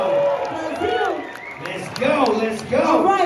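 A crowd at a Red Bull BC One USA Cypher breakdance battle in Los Angeles cheers and applauds, a loud continuous roar that swells near the end while an MC talks over it.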